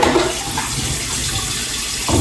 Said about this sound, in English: Get a little water in it.